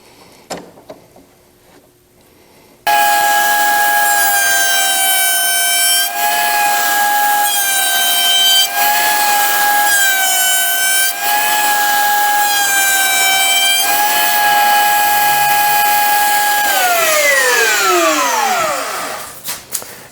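A router rounds over the edge of a wooden pie safe part, its high-pitched whine starting abruptly, cutting steadily and loudly with slight pitch dips under load, then spinning down to a stop.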